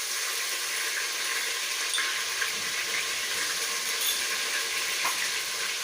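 Ginger-garlic paste sizzles steadily in hot ghee for a mushroom biryani, a close, even frying hiss with faint crackles and no talk.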